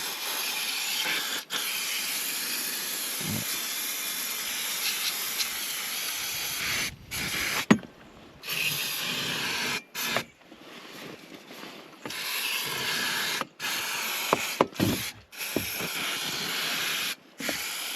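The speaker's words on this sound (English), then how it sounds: "I'll get my brake cleaner because that's got a good jet." Brake cleaner sprayed as a strong jet onto a Reliant Scimitar GTE engine, a steady loud hiss running nearly the whole time, broken by several short pauses and a few clicks and knocks of handling between bursts.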